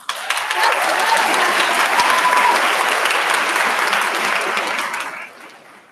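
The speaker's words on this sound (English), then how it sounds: "can we give her another round of applause?" A commencement ceremony audience applauds steadily for a singer after her performance, a dense wash of many hands clapping at full strength for about five seconds before tapering off.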